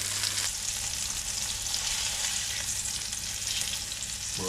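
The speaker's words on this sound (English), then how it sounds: "We've got our fish on cooking, and this really won't take long at all." Fish frying in a pan, a loud, dense sizzle with bright spitting crackle that holds steady throughout, close up and with no voices.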